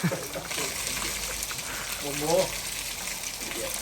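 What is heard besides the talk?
water flowing and splashing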